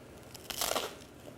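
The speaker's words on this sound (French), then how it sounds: "Je croque dans une tartine." A single crisp crunch as someone bites into a crunchy slice of toast, brief and close, in a quiet kitchen beside a cauliflower cream soup.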